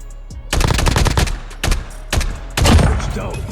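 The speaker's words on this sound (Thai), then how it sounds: "เดี๋ยวลองยิงสักตัวครับ" Several bursts of scoped-rifle gunfire in Call of Duty Mobile ring out in clustered volleys, loud and close, with short pauses between bursts.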